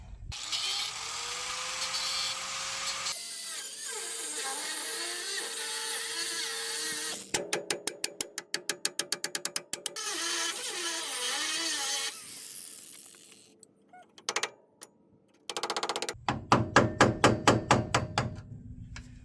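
A power tool grinds and cuts through a rusty bolt head on a Land Rover Defender in long, harsh bursts, broken by rapid rattling pulses and brief pauses.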